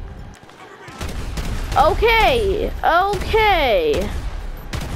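Flaming explosive bullets in GTA V are fired as a series of sharp gunshots and bangs, with a wavering whine rising and falling over the shots and a brief spoken word.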